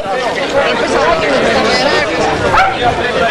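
A small dog yaps a few times amid loud crowd chatter and overlapping voices at a 1991 mountain marathon on Mount Olympus.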